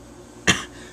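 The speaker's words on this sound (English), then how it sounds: "I'm gonna probably be coughing during this video." A single short, sharp cough, close by, standing out against a quiet background.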